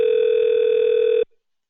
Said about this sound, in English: you're going to hear this ringing